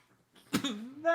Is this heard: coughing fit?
yes